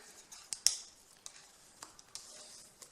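Paper being scored along fold lines for a small scrapbook candle or gift box gives quiet, irregular dry ticks and short scrapes, with a few sharper clicks and no talking.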